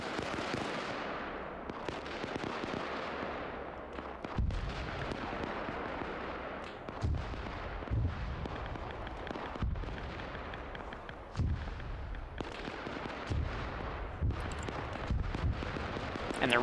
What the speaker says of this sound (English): But now we're going to bombard this position too.